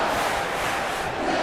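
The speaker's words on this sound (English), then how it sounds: "Crowd chanting for Harry Klein to tap out." Dense, steady crowd noise from a wrestling arena in the WWE 2K video game, a continuous roar of chanting fans at moderate loudness with no clear pauses and no talk.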